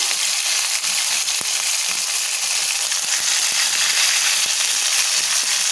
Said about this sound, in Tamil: இப்போ இதை நம்ம திருப்பி போட்டு வேக விடலாம்.